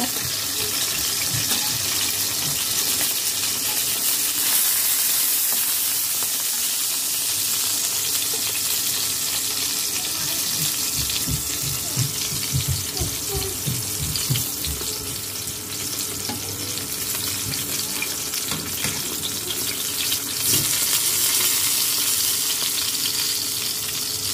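Eggplant frying in hot oil in a pan, giving a loud, continuous crackling sizzle that holds steady throughout, close up, with faint clattering now and then and no talking.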